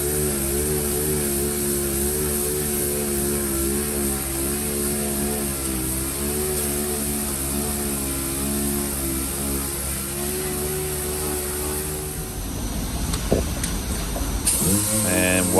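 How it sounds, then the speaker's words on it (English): Dual-action sander with P80 grit working metal bodywork, a steady loud whirring drone with a constant pitch that lasts throughout, growing rougher and more scratchy near the end, no talk. "what grit I'm using here is P80"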